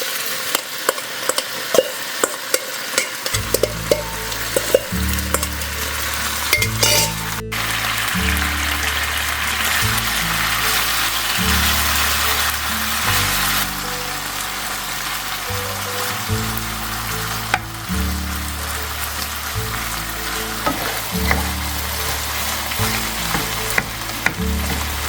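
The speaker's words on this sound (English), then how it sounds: "Now we're just gonna fry up this Kalbi here." Kalbi beef frying in sesame oil in a pan makes a loud, continuous sizzle with sharp pops and crackles, and a low rhythmic background tone pulses underneath throughout.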